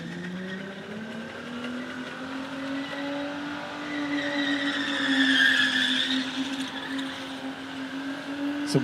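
A car does a burnout in the open class finals at Rockynats, its engine roaring steadily with a drifting pitch over sustained tire squeal, loud and continuous, with no talking.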